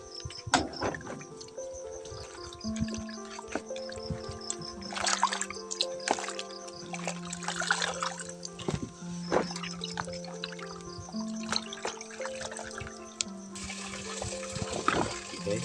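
Water running and splashing over a native chicken being washed before roasting outdoors on a farm, a continuous trickle with clinks and handling noises.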